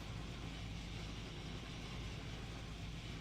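Race car engine idling in fourth gear with no throttle in an online supercar racing game, a steady faint low drone that stays flat and unchanging throughout.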